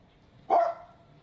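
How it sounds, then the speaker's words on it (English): A $100,000 robot dog lets out a single loud, electronic-sounding bark on command, one short burst close by with a brief fading tail. "Bark. Now bark."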